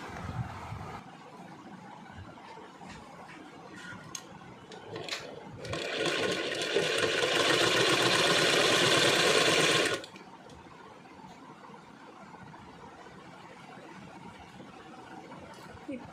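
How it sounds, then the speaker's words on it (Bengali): An electric sewing machine stitches a Patiala salwar, running in one steady, loud whirring burst for about four seconds after a quiet stretch, then stopping; faint handling sounds surround it. "এবার দেখানো যাক যে কীভাবে আমি সেলাই করছি।"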